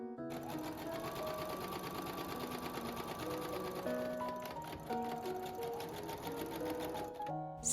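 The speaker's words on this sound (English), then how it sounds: "Sew the sideline of the outer and lining and serge or zigzag." A sewing machine stitching the side seams of a midi skirt's outer fabric and lining, running continuously at a rapid, even ticking pace for several seconds, close and clear, with no speech.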